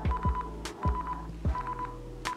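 A mobile phone plays its alert tone, set off by the find-phone feature of a pTron Force X12N smartwatch: repeated short electronic beeping pulses in a steady rhythm, close and clear with no talk.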